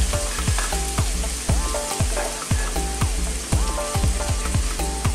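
Ginger, garlic and red onion fry in hot coconut oil with a loud, constant sizzle, punctuated by regular knocks of a utensil stirring the pan, close and with no talking.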